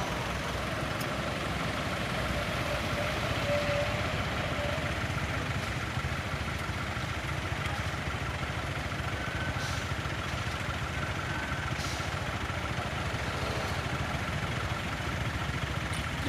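Hino and Fuso heavy trucks idle on a hill climb, a continuous low engine rumble that holds steady and moderately distant with faint background noise and no talk.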